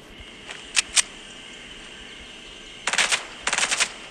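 Burst rifle gunfire in the video game Fortnite, a couple of single cracks early on and then two tight rapid bursts of several shots each, sharp and moderately loud against a quiet background with no talking.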